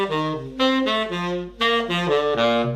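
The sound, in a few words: triads played descending from guide tone line on a jazz tune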